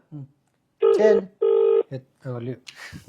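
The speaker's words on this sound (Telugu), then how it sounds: "రింగ్ అవుతుంది" A telephone ringback tone sounds in two steady pulses, with brief bits of voice before and after.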